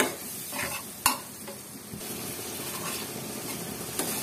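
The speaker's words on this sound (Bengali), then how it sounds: "তো এই সবগুলো একসাথে দিয়ে এবার ভালোভাবে কষিয়ে নিতে হবে।" Garlic, onion and spices sizzle in oil for a dried loitta fish curry, a constant close hiss under repeated spatula scrapes, with a sharp clank near the start and another near the end.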